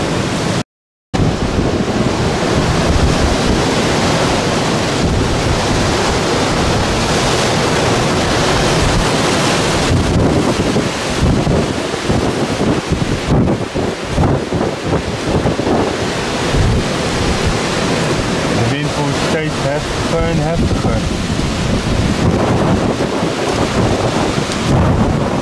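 Strong gusts from storm Eunice roar continuously past the microphone in 's Heerenberg, loud and buffeting, with heavy wind noise throughout, broken only by a brief dropout near the start.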